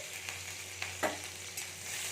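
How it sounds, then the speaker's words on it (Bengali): Cumin seeds and chopped green chillies frying in hot oil in a pan, a steady faint sizzle with a few light stirring clicks, no voices. "কাঁচা লঙ্কাটা একটু ভাজা ভাজা হয়ে এসছে"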